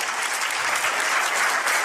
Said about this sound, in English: the fucking weenies who are clapping